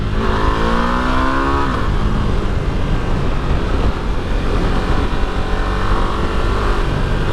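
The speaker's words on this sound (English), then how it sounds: "Thankfully, it's quite nice to rev out. In fact, let's do that right now." A Ducati Multistrada V2 motorcycle engine revs hard and loud, a dense rising roar that climbs through the gears and then sustains at high revs throughout, heard up close.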